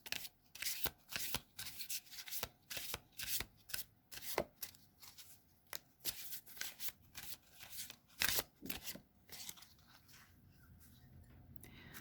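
Cards being shuffled repeatedly, a rapid series of crisp riffling bursts in steady rhythm, close and fairly quiet, fading at the end.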